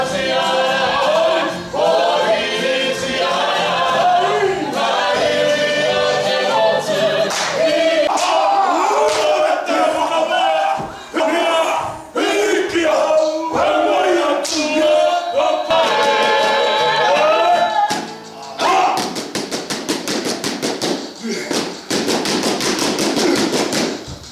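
A crowd at a welcoming ceremony chants and shouts in unison, with loud rhythmic voices and sharp percussive slaps and stamps, then bursts into a noisier roar near the end.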